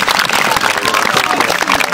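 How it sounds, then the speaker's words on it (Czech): Applause at a children's camp game, a brisk burst of clapping from a group of kids, close and fairly loud with uneven individual claps, and slight voice sounds mixed in. "Potlesk."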